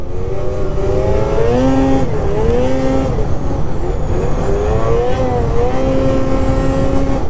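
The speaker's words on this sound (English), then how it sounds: "Boy, this little 600 engine is cool." A small 600 snowmobile engine on an Arctic Cat Catalyst revs steadily and loudly, its pitch rising and falling as it works through the throttle, with a constant roar throughout.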